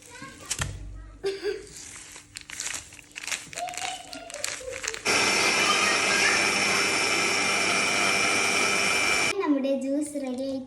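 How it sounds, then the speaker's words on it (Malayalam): A blender grinds pondan juice with condensed milk, a loud steady whir of roughly four seconds in the middle, preceded by clattering handling sounds and speech and followed by more talking. "ഇനി ഇതിലേക്ക് കട്ടപ്പാൽ മിക്സ് ആക്കി ഒന്നും കൂടി അരിക്കുക"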